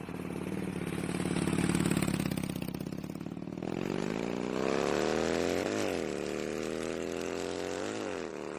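A motorbike engine runs steadily with no one talking, its note rising and falling with small throttle changes as the bike rides along.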